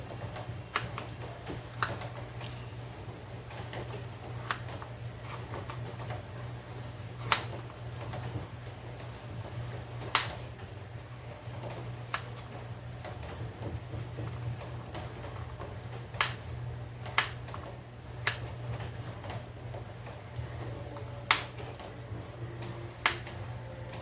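A knife chopping a hard red pumpkin into pieces, sparse sharp cuts landing at irregular intervals over a steady low hum, moderately close and with no talking.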